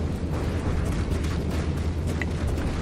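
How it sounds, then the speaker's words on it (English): Grenade launcher explosion in the video game From the Depths, a dense, continuous booming rumble lasting a few seconds, loud and close with no talk. "Phasing the explosion through the hull here."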